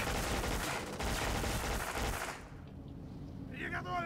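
An MP5 submachine gun rattles in rapid continuous automatic fire in the shooter game Black, dense and loud for about two seconds before cutting off into quieter ambience.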